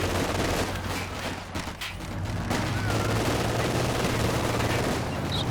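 Battle in Company of Heroes 2, a 2v2 match: dense overlapping gunfire and bursts of fire roll on steadily with a low rumble underneath, no voices.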